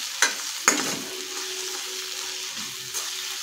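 Kashmiri chili powder sautés in hot oil for a Maharashtrian amti, a soft steady sizzle close by, broken by a couple of sharp spoon clinks against the pan as it is stirred, with no talking.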